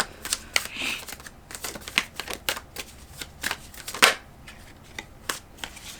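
Tarot cards being shuffled by hand, a steady run of quick papery riffles and soft slaps with a few sharper snaps, close and fairly quiet, with no voices.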